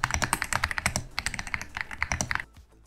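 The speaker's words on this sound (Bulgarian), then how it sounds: "Нека първо чуете как звучеше клавиатурата преди да започна." A mechanical keyboard, its switches not yet lubricated, typed on alone in quick uneven bursts of crisp, close clacks, ending with a short quiet pause.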